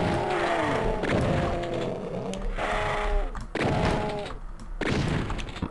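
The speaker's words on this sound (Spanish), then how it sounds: "Alguien me ha disparado, no sé de dónde, pero he escuchado un disparo." Gunfire and explosive thuds from the video game Doom, a run of heavy booming shots with harmonic ringing tails, loud and dense, several blasts in succession over about six seconds.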